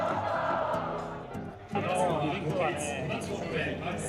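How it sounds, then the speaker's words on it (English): Loud, continuous crowd noise fills a baseball stadium before the first pitch, with a steady roar of voices that swells sharply partway through into cheering and shouts. "There was heaps of noise and anticipation coming from the crowd."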